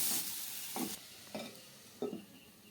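Grated beetroot stirred in a pan with ghee, three distinct scraping strokes spaced about half a second apart over a faint background sizzle, close and fairly quiet.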